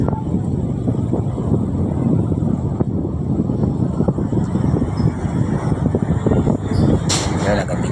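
Steady, loud wind rushing and buffeting the microphone, with a constant low roar throughout.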